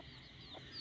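A mother hen that just hatched thirteen chicks gives a few soft, quiet clucks close by, brief and low against a calm background.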